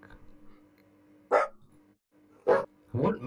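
A dog in a modded Minecraft game gives three sharp barks, one alone, then a pair close together, over a low steady game hum.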